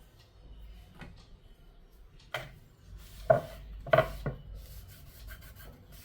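A knife cuts lemons into quarters for pickle on a board, giving a few sparse, soft knocks and chops spread over several seconds with quiet gaps between them.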